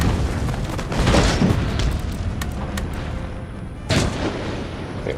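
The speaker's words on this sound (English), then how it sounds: "Okay, artillery." Cannon and artillery fire in the video game Total War: Empire, playing as the Russians, a dense battlefield roar of booms and blasts under constant rumble, with a loud burst near the end and no talking.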